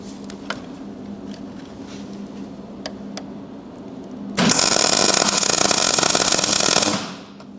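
Welding the doors onto a Holden Torana GTR XU1 during restoration: after a quiet workshop hum with a few light knocks, a loud, harsh crackling weld burst runs steadily for about two and a half seconds, then cuts off.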